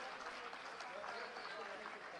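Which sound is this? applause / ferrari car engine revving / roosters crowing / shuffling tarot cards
applause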